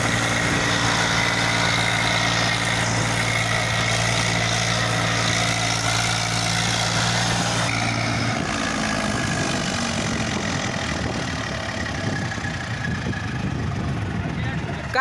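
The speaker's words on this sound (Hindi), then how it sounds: "आज की घनघोर बारिश में ही मिंटी जैक्सन का ट्रैक्टर मिट्टी लेके निकाल लाया।" An Eicher 380 tractor engine runs out in heavy rain while hauling soil, a steady low droning idle with a tonal hum that drops and roughens midway, heard at moderate distance amid rain noise.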